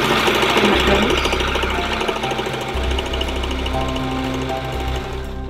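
A Janome J311 sewing machine backstitching: a loud, close, continuous rapid mechanical clatter with a steady hum, running throughout.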